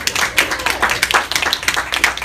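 Audience applause rings out in a large hall at a servant leadership series talk, a dense steady clatter of many hands clapping close by for about two seconds.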